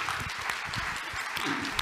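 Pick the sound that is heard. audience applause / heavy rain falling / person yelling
audience applause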